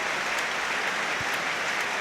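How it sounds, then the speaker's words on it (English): Football supporters applaud at a Hearts versus St Johnstone match in August 2015: steady, dense crowd clapping fills the stadium as an unbroken wash of sound with no clear single claps. "applause from the Hearts supporters for a 14-year-old lad"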